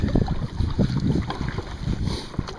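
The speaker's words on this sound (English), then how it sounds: "I'm heading into the wind right now" Wind buffets a kayak being paddled on Sand Lake, Michigan, into a headwind, with low gusty rumbles and irregular splashy paddle and water sounds, steady and fairly close throughout.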